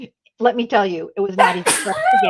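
A single sharp sneeze during a live show, bursting out right after a person speaks, close and loud, with talk continuing around it.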